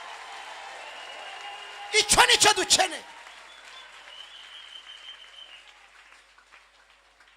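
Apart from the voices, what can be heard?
congregation applauding in church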